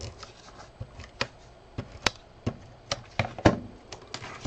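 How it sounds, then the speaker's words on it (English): Sharp, close clicks and taps repeat irregularly as an adhesive tape runner presses paper down while crafting a birthday fun fold gift card holder, with no talk over them. "I'm going to go ahead and use my adhesive and tape that down"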